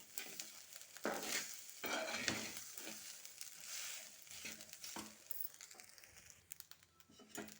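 Sweet corn and carrot fried rice being stirred with salt in a hot pan, a close, continuous sizzle broken by repeated scraping strokes of the spoon, with no talking.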